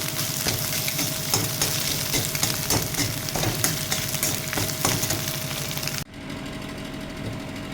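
Chopped onion hits hot oil for egg tadka and sizzles in a loud, steady crackle with fast, rhythmic scraping and stirring, then the sizzle abruptly drops to a quieter hiss near the end.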